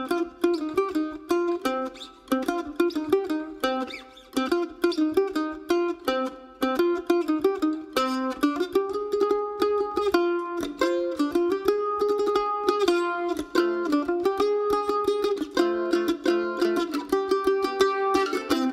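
A mandolin plays a rock-and-roll tune, bright picked notes in a steady bouncing rhythm, loud and close and alone throughout.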